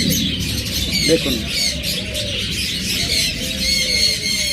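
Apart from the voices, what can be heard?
pet birds, likely pigeons, cooing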